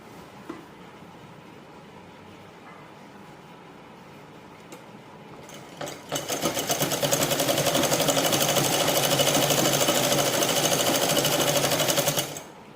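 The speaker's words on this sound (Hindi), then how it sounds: "अब मैं एकदम सीधी सिलाई लगा दूँगी ऐसे करके।" A sewing machine stitches a straight seam on a petticoat, starting after a few faint handling clicks and then running in a steady, loud rapid rattle for about six seconds before stopping.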